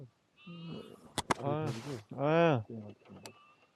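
Several close sheep bleat in wavering, quavering cries, a couple overlapping, with short sharp knocks between calls in a quiet outdoor setting in Malkabang village, Nepal.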